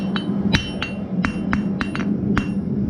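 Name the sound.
hammer forging hot steel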